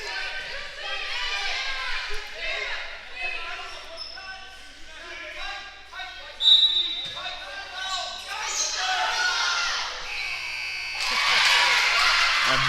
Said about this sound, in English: A nice buzzer beater there for Daggett.